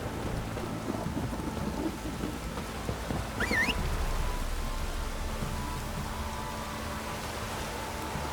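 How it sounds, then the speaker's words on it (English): Heavy rainstorm downpour with rumbling thunder in the video game The Witcher 3, a steady broadband roar of rain throughout with low thunder rolling underneath and a brief bright chirp near the middle. "This downpour's a bastard, it is."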